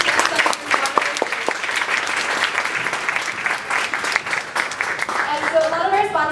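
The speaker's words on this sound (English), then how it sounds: "we'd like to give a big round of applause to all of our sponsors" A crowd claps steadily and enthusiastically, a dense patter of hands that holds throughout, with a few cheers rising near the end.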